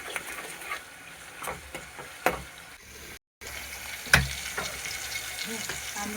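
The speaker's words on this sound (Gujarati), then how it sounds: "પછી આપણે ટમેટાને સડવા દેવું. બરાબર હલાવી નાખીએ." Chopped tomatoes with salt sizzle steadily in a pan for a Kathiyawadi sev tameta curry, with a soft frying hiss under several clicks and scrapes of a spoon stirring, one louder knock near the end.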